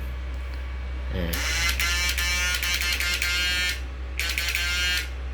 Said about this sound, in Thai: มีพัดลมข้างในนะครับ